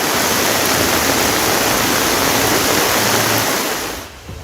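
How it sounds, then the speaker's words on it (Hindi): Floodwater rushes fast along a road after heavy rain in Navsari, Gujarat, a loud, continuous broadband roar that holds steady and eases slightly near the end. "गोकुलधाम से जलजीत रोड पर पानी तेज रफ्तार से बहने लगा।"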